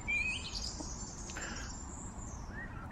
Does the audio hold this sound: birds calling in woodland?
yes